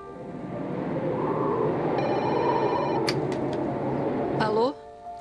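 A telephone rings as a call is placed, with short bright electronic ring bursts over a continuous background bed and a voice speaking throughout.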